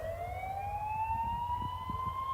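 A tsunami warning siren in Alaska blares after a magnitude 7.5 earthquake, one long steady tone slowly rising in pitch, loud and continuous over a low rumbling background with no voices.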